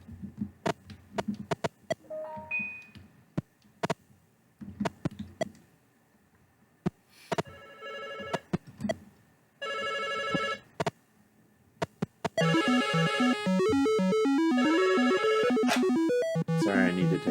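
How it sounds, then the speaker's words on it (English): A telephone rings amid a jumble of electronic clicks, beeps and tones, the ringing turning dense and continuous toward the end, fairly loud and without speech. "I had a phone call that I had to take"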